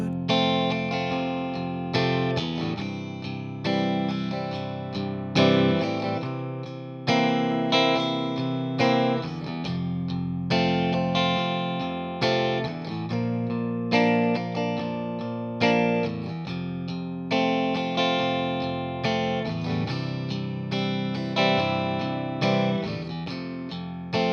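An electric guitar with effects strums the steady chord progression of a song, each chord rung out in an even, repeating rhythm with no voice.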